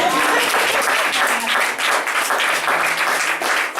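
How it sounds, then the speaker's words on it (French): An Assemblies of God church congregation applauding and cheering, a loud sustained burst of clapping with a swell of crowd voices rising and falling over nearly four seconds. "Donne les acclamations."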